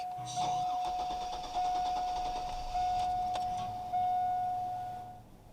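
A 2000 Chevrolet Blazer with the Vortec 4.3 liter V6 starting up, a faint engine catch and idle beneath a steady electronic chime, with a voice talking briefly.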